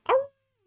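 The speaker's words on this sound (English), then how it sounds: "we kind of have a good chorus of barks" A single short, sharp dog bark rings out close by and stops abruptly, leaving silence after it.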